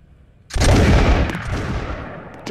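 A thunderous massed musket volley in the Roblox game Bot Commander erupts all at once, a dense wall of overlapping shots that rolls on and fades slowly, with no voices over it.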